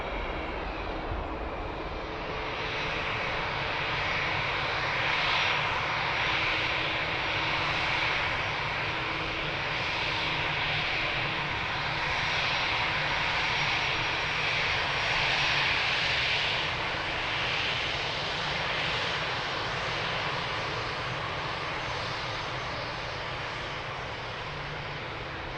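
Jet airliner engines roar during takeoff at Lisbon Airport, a loud, steady broadband rumble and hiss that swells slightly and holds throughout without voices.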